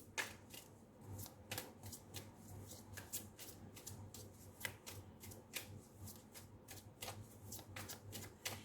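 Greer Tarot cards are shuffled in soft, quiet riffles and slaps with a steady irregular patter of crisp card snaps close by, over a faint low hum and no talking.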